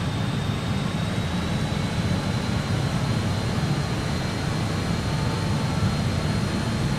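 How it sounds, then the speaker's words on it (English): An Aurigny RJ85 jet in a flight simulator game accelerates, its engines a steady, even roar with a faint high whine running through it. "Set, aircraft accelerating"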